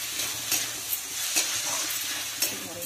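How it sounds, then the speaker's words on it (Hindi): Garlic, ginger and green chili fry in a pan for a potato dish, giving a steady close sizzle broken by a few scraping stirs, with no talking. "रखिथिबा अदा रसुण कंचा लंका पकईदबा। एबे अदा रसुण कंचा लंका भलसे भाजी हो गलानी"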